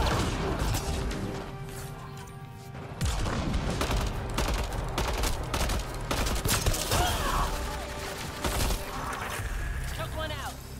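Rapid gunfire from the sci-fi shooter Mass Effect Andromeda, with repeated sharp bursts and crashing impacts over a dense layer of game effects, heard alongside ongoing talk.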